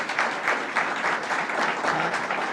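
Sustained audience applause at a government announcement by Governor Kathy Hochul, a dense, steady wash of clapping from a large crowd with no talk over it.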